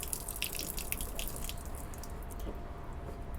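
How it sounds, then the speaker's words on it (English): Fresh water drains from a Burstner Lyseo TD 684 G motorhome tank, pouring and splashing steadily, with scattered drips and trickles over a constant flowing hiss. "As you can see, it is now draining that fresh water out there."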